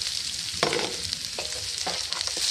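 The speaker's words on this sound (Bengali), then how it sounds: "বন্ধুরা, এরপরে আমি পেঁয়াজগুলো দিয়ে দিচ্ছি।" Chopped onions go into hot oil in a wok, giving a close, steady sizzle with bursts of crackling and scraping stirs, no voices.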